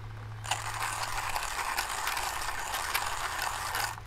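A Onesipresso JX hand grinder with a conical burr cranks through coffee beans, a steady close ratcheting, crunching grind running continuously for several seconds with no talk.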